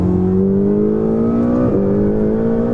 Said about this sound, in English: where they try and dumb down the interior exhaust note, Ferrari have upped it.